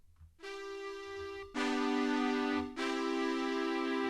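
Sustained layered General MIDI synth tones play with no talking, stepping through three held chords in turn. Each new chord is brighter and louder than the one before.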